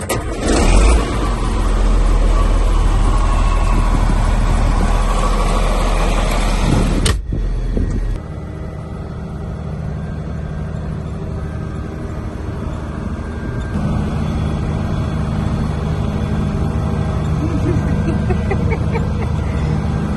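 A steady tractor engine rumble runs throughout, loud at first, then a sudden drop to a lower, continuous idle-like drone.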